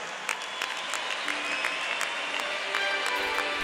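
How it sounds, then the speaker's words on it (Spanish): Congregation in church gives a strong round of applause, a sustained crowd of clapping hands at steady volume, with a few sharper claps standing out near the listener. "Y yo quiero que le dé un fuerte aplauso al Señor en esta noche."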